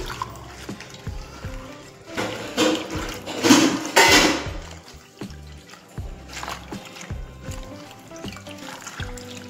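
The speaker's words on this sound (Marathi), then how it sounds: "आता आपल्याला हे पान धुवून घ्यायचे." Leafy vegetable leaves washed by hand in water, with trickling, dribbling and splashing that rises in the middle, plus a few knocks of a vessel against a hard surface.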